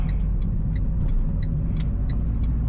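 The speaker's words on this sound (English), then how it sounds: "Just blip the throttle and let's go left." A manual car's engine hums steadily at low revs while downshifting, with a few light high-pitched clicks or squeaks over the constant rumble, no voices.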